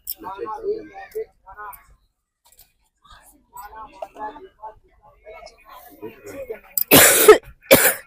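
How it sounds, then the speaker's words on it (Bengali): Harsh coughing from a woman with a hoarse throat, a loud burst of two or three coughs near the end, after stretches of soft murmured speech. "এতটা কাশি হয়ে গেছে গলা পুরো বসে গেছে"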